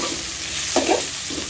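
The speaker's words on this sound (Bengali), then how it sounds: "এখন ভেজে নিব।" Tomatoes and green chillies sizzle in a pan as a utensil stirs them, a constant close hiss broken by a couple of short scraping strokes, no voices.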